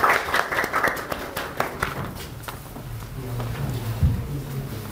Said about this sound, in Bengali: করতালি হবে তার জন্য